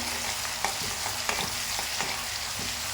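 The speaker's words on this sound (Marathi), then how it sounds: "हा लसण आणि जिऱ्याचा पेस्ट याच्यामध्ये टाकून घेत आहे मी आणि आता यालासुद्धा ना मस्त फिरवून घ्यायचं आहे" Garlic and cumin paste sizzling with softened onion in a pan while a spoon stirs it, giving a constant close frying hiss broken by light periodic scrapes and taps.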